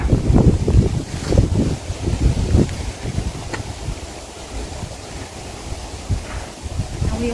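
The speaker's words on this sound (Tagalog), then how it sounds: "lakas ng hangin eh" Gusty wind near a smoking wildfire roars across the microphone in loud, uneven bursts, easing slightly midway, with a rushing, outdoor open-air feel and no clear speech.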